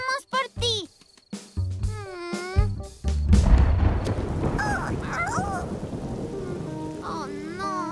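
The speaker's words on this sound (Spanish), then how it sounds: "Oh, no. Está lloviendo." Cartoon storm: a loud crack of thunder breaks in, then steady heavy rain hisses on, with animated character voices and whimpers over it before and during the downpour.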